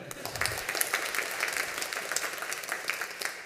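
Applause from a church congregation at a worship service, a steady wash of many hands clapping at moderate loudness for several seconds.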